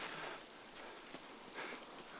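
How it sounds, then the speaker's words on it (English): Steady rain in the video game Miasmata, a dense continuous hiss with faint droplet patter, even and close throughout with no talking. "Also, it's raining."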